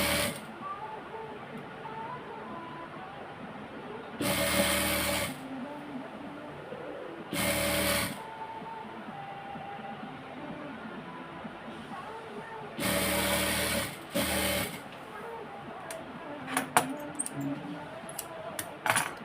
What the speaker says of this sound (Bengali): চাপ সিলাই দিয়ে দিচ্ছি